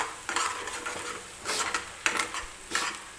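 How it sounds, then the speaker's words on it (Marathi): Onion-based gravy for mutter paneer roasting in oil in a kadhai, stirred with repeated spatula scrapes against the metal over a steady low sizzle, the scraping bursts coming every half second or so, close and clear. "आता ही ग्रेव्ही आपल्याला व्यवस्थित तेलामध्ये भाजून घ्यायची आहे."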